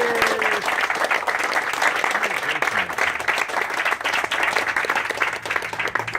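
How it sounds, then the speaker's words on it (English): An audience at the official opening of a trade centre in Providence breaks into steady, full applause that lasts several seconds, with a voice faintly heard over the clapping. "a big round of applause for that"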